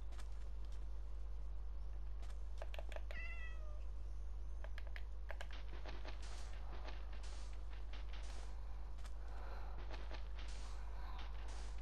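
Cat meows from the Minecraft video game, a few short calls with chirpy rising tones near the start and some clicky taps scattered through, heard over a steady low hum with no talking.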